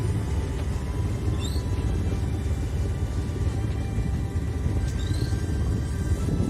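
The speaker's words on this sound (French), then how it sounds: "Alors je suis au moteur parce qu'il n'y a pas de vent" A sailboat motoring in calm, windless conditions near the Pointe du Raz, its inboard engine producing a steady, continuous low rumble and chug with faint water noise and no talking.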